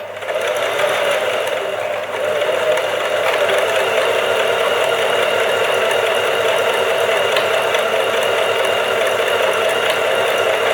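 A sewing machine runs nonstop while stitching a buttonhole, its fast mechanical stitching whir steady and loud throughout, with no voices.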